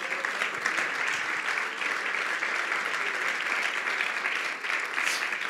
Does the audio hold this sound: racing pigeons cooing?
no